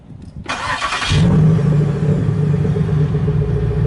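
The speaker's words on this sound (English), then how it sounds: "now the car running good now" A car with an LS4 engine cranks with a brief starter whir, catches, and settles into a steady, loud idle close by, with no talking.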